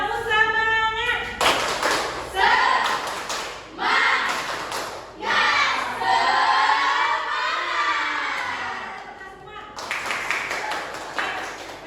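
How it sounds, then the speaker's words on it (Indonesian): A class of schoolchildren performs a rhythmic spirit-clapping routine during a physics lesson, with bursts of patterned claps and taps interleaved with a voice calling out the sequence, moderately close in a room. "Tepuk semangat."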